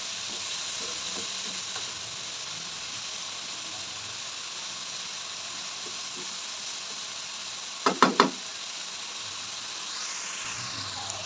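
Spinach fries steadily in a pan for an egg and potato breakfast dish, giving a constant hiss with a brief cluster of sharp utensil clicks near the end; no one speaks.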